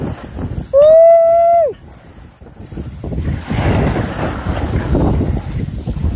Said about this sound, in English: Blowing 20 knots plus.